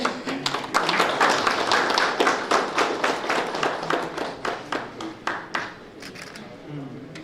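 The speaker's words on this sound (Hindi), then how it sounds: "इधर बोल जोरदार तालियां" A crowd at a National Voters Day event in Simdega, Jharkhand applauds loudly, dense rapid clapping in sustained waves that slowly taper off near the end.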